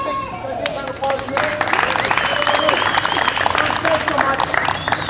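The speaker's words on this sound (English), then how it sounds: "Can I take a round of applause?" An audience gives a round of applause at a live stage show, the clapping swelling after a moment into dense, steady applause with a voice speaking over it.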